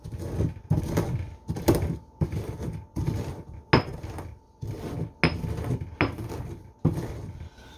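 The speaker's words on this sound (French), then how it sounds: "je vais le mélanger un peu avec le pilon" A pestle working pepper and spices for homemade sausages, sounding as eight or nine sharp, evenly spaced knocks and scrapes, close and fairly loud, with no talk.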